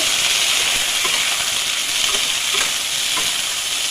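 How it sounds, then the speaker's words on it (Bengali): Chopped ivy gourd (kundri) fries in a pan with onions that are already browned, giving a loud, continuous close sizzle with occasional soft scrapes as the pieces are stirred. "এই কুঁদরিগুলোকে আমি পুরো লাল করে একটু ভাজা ভাজা করবো।"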